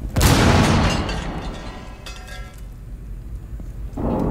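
A grenade goes off in a shooter video game with a loud, booming blast right at the start that rumbles and slowly decays over several seconds, then a fresh burst of noise rises near the end.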